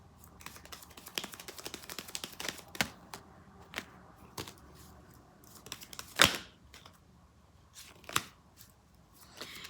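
Quiet, irregular riffling and tapping of a deck of tarot cards being shuffled close by, with scattered sharp snaps and one louder slap partway through; no talking.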